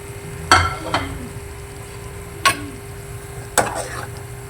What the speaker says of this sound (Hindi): अब हम इसमें डालने लग रहे हैं शिमला मिर्च।